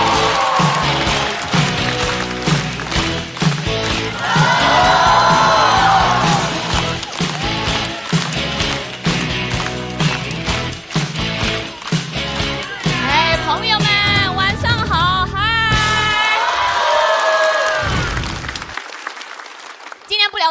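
A live stand-up comedy audience claps and cheers as a comedian is welcomed onto the stage, the applause mixed with loud music and voices, then cutting out near the end.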